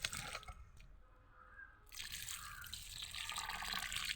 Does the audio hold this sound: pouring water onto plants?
yes